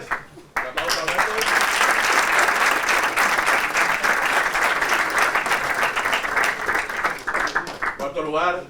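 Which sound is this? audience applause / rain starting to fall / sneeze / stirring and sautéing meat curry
audience applause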